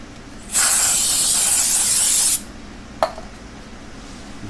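Aerosol cleaner sprays onto the CVT of a Honda Silverwing 600 in one steady, loud hiss lasting nearly two seconds, followed by a single short knock and quiet background.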